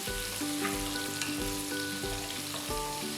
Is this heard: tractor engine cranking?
no